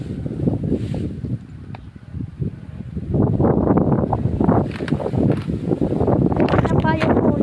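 Strong wind sweeps through a rice field, rushing and buffeting the microphone, growing louder and steadier after the first few seconds while a person talks over it.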